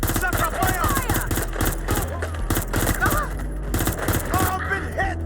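Gunfire in the video game Watch Dogs Legion, set in London, rapid bursts of automatic shots over dense game music and effects, steady and loud throughout.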